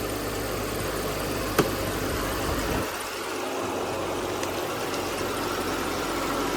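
An Audi A6 engine idles steadily after a start-up from long storage, a close, even running hum with one brief click and a slight drop in tone midway.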